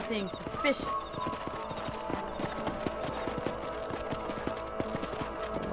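Horse hooves clip-clop at a steady trotting rhythm in the Red Dead Redemption video game, with game music and sounds layered in and someone talking over them.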